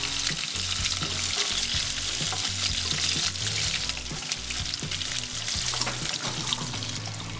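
Fish sizzling and frying steadily in hot oil in a home kitchen pan, a dense continuous crackle with occasional stirring clinks, close and fairly loud, with no voices.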